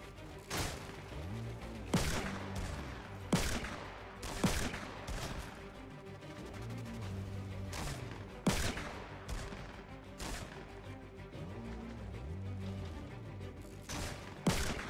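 Shotgun blasts go off in a cowboy shooter game, several sharp, fairly faint bangs spaced a second or two apart over a steady musical background.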